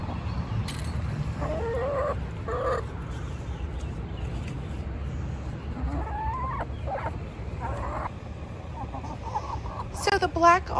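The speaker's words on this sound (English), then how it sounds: "So the black Australorp is really a #1 choice for backyard birds especially." Black Australorp backyard hens cluck and squawk in short, scattered bursts over low mechanical background noise, with a louder burst near the end.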